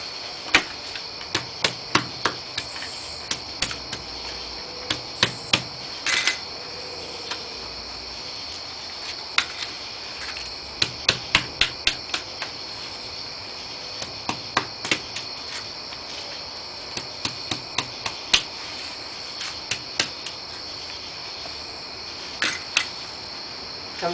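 Black walnuts are husked by hand outdoors, giving scattered sharp snaps and cracks in irregular bursts over a steady high insect drone, fairly quiet and close.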